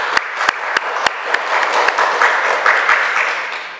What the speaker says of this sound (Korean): 우리 다시 한번 박수로 하겠습니다.